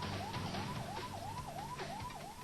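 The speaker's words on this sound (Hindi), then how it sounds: "बस एक एम्बुलेंस सड़क पर दनदनाती हुई आगे बढ़ती जा रही थी।" An ambulance siren wails in a steady rising and falling cycle, loud and continuous, with traffic rumble underneath.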